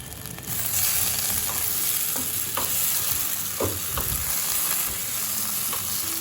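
Green tomato and brinjal frying in a pan with sugar being mixed in, a loud continuous sizzle broken by scraping stirs of the spatula, heard alone without talk.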